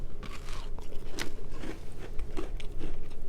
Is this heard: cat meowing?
no